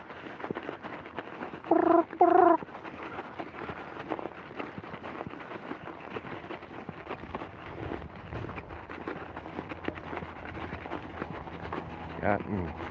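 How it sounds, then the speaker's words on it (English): A big raven calls from a distance outdoors in Ottawa, two short hoarse croaks standing out over steady wind and road noise while someone talks. "you hear a big raven in the distance."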